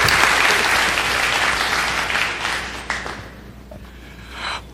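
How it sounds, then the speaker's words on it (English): Audience applause for guests at an agricultural venture capital panel, a sustained crowd clapping that gradually thins and fades toward the end. "So please give them a round of applause."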